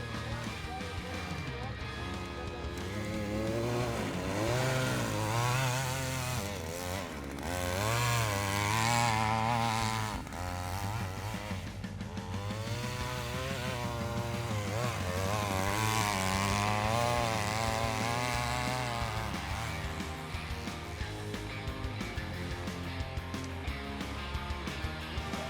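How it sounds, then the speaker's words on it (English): A Yungoi mini snow sled with a 3 HP engine runs continuously, its small engine buzzing and rising and falling in pitch with the throttle at a winter machine event, fairly loud and close throughout. "And one more mini sled Yungoi with 3 HP engine."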